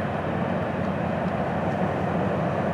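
Florida East Coast Railway southbound train rumbling past in a steady, dense roar, loud and continuous with no talk.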